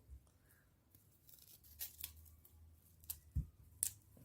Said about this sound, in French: Pour les brocolis, on va venir couper comme ça, et séparer les petites têtes.